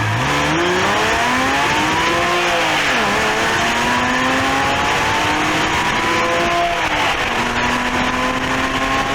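A base Porsche Cayman with a 265-horsepower engine revs hard while driving, climbing and dropping through the gears in a loud, continuous, sweeping engine note, heard close from inside the car.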